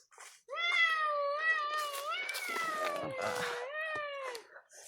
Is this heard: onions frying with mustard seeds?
no